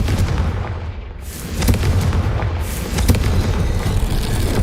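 A Confringo fire spell cast in a Harry Potter video game, heard as loud booming blasts, with sharp bursts near the start, the middle and around three seconds over a dense, continuous rumble.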